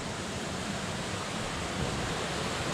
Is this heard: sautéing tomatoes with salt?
no